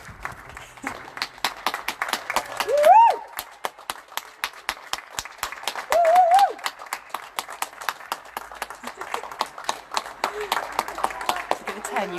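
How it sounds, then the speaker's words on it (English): Neighbours applauding key workers at 8 o'clock during lockdown, steady outdoor clapping from several people nearby, with whoops and cheering breaking through twice and voices talking over the applause. "we do a bit of applause for all of our key workers"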